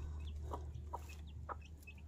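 A mother hen clucks in a few short, separate calls, fairly faint, over a steady low farmyard hum.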